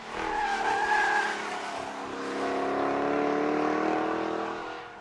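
A Jaguar XKR-S sports car engine roars and revs, pitch rising and falling as it accelerates, loud and close with a tire-squeal edge.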